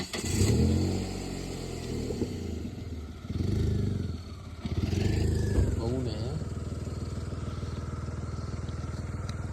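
Vehicle engine on a potholed rural road between Sarole Thadi and Nandur in Niphad taluka, a motorcycle-like motor droning and surging with clatter from the rough surface, while people talk over it.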